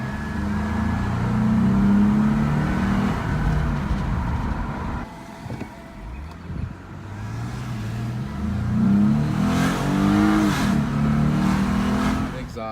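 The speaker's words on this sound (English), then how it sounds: "Second thing I like about this car is how the engine sound." A stock Lexus 2.5-liter six-cylinder engine revs up close, rising and falling in two main runs separated by a quieter idle dip, with a smooth, moderate-volume tone and no other sounds over it.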